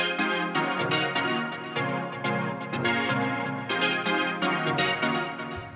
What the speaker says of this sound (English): The first sound that we have here is this chord stab